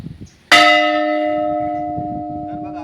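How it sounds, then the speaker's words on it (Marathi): A single strike of a six-quintal brass temple bell at a village goddess temple in Satara district, loud and close, followed by a long, steady ringing hum that slowly fades. Faint talk comes just before the strike. "एक जर घंटा वाजली सकाळी तर सगळा गाव जागा होतो."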